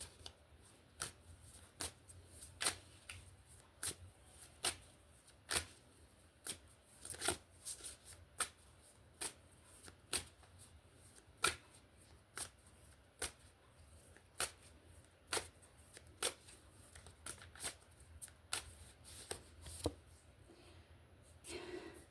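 Tarot cards are shuffled by hand in a long series of quiet, crisp riffling snaps that repeat at a fairly even pace, close and soft, with no talking.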